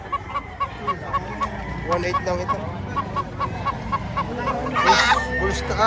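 Chickens, including a gray rooster, cluck and call at a poultry auction market in Padre Garcia. Steady rhythmic clucking runs beneath a voice as he talks throughout, and louder calls rise near the end.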